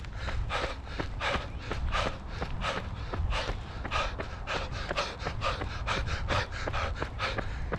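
A voice imitates panicked heavy breathing while running, rapid rhythmic huffing pants close to the mic, repeating steadily for several seconds with no words.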